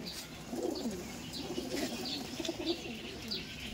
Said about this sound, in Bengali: তো চলুন পায়রাগুলো ওয়েট করছে, পায়রাগুলো দেখায়।